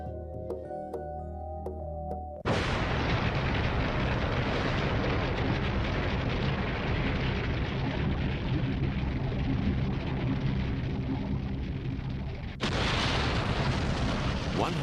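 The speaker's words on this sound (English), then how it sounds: "titanic convulsions deep within the Earth erupt in a curtain of fire, tearing continents apart" A volcanic eruption, a roaring continuous rumble of explosive booms that bursts in abruptly after a brief tonal musical passage, dips briefly, then surges again, loud and sustained.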